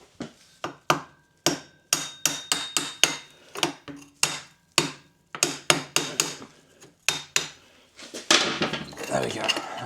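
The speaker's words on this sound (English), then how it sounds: "I'm going to have to tap the other side off, I think, or pop the stud off" Sharp metallic taps knocking a part off a Yamaha MT 125 / YZF R125 engine, a dozen or more close, irregularly spaced hammer strikes followed by a rattling scrape as it comes loose.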